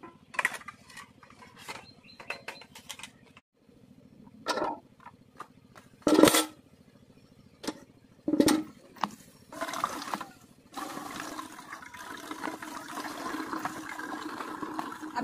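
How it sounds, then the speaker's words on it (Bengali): Hand-operated water pump worked by hand, with intermittent metallic squeaks and clunks of the handle followed by a steadier stream of water splashing, close and moderately quiet. "সেই কারণে হচ্ছে আমি নিজে পাম্প করে জল নিয়ে নিচ্ছি।"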